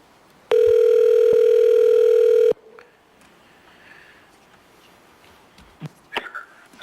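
Telephone dial tone during a public assembly meeting call-in, one steady buzzing tone lasting about two seconds, then faint room noise with a few small clicks and knocks.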